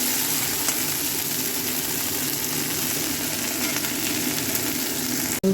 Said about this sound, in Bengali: রান্না বান্না চলছে, খাবার ভাজা হচ্ছে